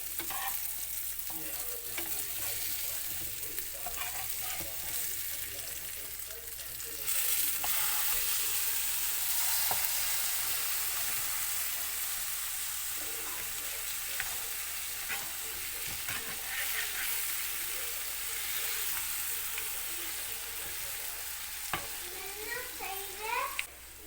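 Fish fry sizzling steadily in a pan for garlic bread with fish fry, a constant loud crackling hiss with occasional stirring scrapes and faint voices in the background.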